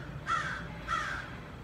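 A crow caws twice in quick succession, loud and harsh, outdoors on a city street with faint background hum and no talking.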